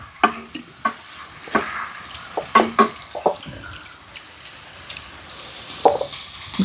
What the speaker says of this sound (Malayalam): കുറച്ചും കൂടി ഒന്ന് പിഴിഞ്ഞൊഴിക്കുക അല്ലേ സരിത?